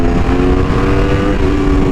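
Close, loud engine roar of an Aprilia Tuono V4 motorcycle accelerating hard in second gear, a steady harmonic growl that holds for two seconds.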